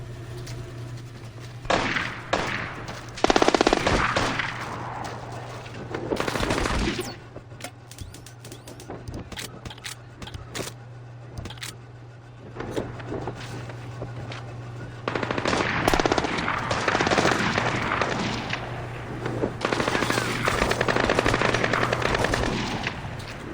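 Gunfire in the video game Splinter Cell Blacklist on Xbox 360: rapid machine-gun bursts and scattered shots, loud and sustained, with brief lulls between volleys over a constant low hum.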